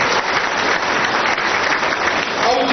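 An audience applauds in welcome at a community society's annual conference, a dense, steady roar of clapping from a large crowd throughout, loud and continuous with a faint voice near the end.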